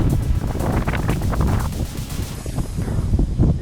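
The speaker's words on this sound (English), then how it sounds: "It's very windy, as you can probably tell." Strong wind on Ireland's Atlantic coast buffeting the microphone in a steady roar, with a rough, gusty texture and a hint of surf behind it.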